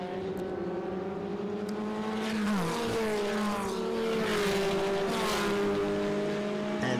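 Historic Formula Ford racing cars, including a Van Diemen RF89, race at Winton, with loud engine notes rising and falling as cars pass, overlapping runs and a squeal of tires.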